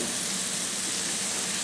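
Mushrooms sizzle steadily on a Weber One Touch kettle grill, a dense, close frying hiss that stays even while they are tossed.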